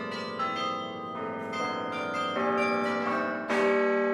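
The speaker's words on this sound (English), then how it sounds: "In the top part of the belfry, a set of bells called carillon tells the time." Carillon bells ring high in the belfry of historic Bruges, a dense, sustained peal of many overlapping tuned bells playing a melody, with a fresh loud strike near the end.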